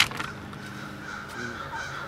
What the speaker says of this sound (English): Wow, there's a bird going crazy out there.